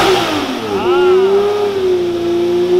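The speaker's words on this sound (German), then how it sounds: "Ein Lamborghini. Was glaubst du? Wird er sich besser anhören wie der Ferrari?" A Lamborghini engine revs loud and close in one sustained rise and fall, its throaty tone swooping up and settling back toward idle.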